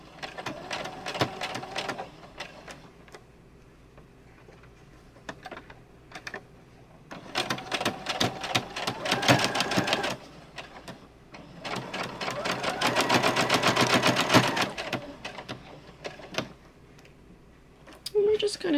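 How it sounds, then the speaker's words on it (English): A sewing machine runs reinforcing stitches on a towel, with several bursts of fast, even needle chatter separated by short pauses, close and fairly loud. A voice speaks briefly in the gaps. "we're going to reinforce those stitches."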